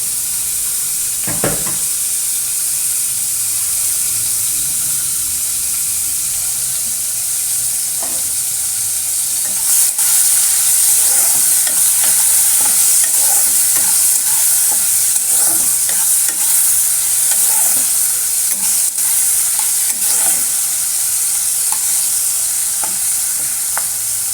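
Bitter gourd fries in a pan with a loud, steady sizzle that lasts throughout, close up, with occasional scraping stirs and a brief surge of hissing midway.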